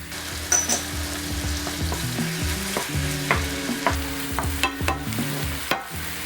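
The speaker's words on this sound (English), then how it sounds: "Let the meat cook for a few minutes and then add 1 tablespoon of soy sauce, 1 tablespoon of oyster sauce" Ground chicken mince frying on high heat with soy sauce and oyster sauce, a steady loud sizzle broken by repeated scraping stirs and clinks of a utensil against the pan.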